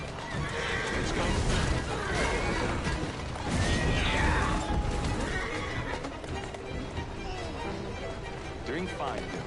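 Horse-drawn carriages galloping in an Assassin's Creed video game, rapid clip-clop of hooves and rattling wheels with a horse whinnying, loud and busy, with voices talking over the clatter.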